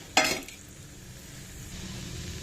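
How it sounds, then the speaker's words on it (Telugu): Tempering seeds hit hot oil in a pan for tomato pickle, bursting into a loud crackling sizzle that then settles into a steady, softer frying hiss. "ఇప్పుడు మనం పోపు గింజలు వేసుకుందాం."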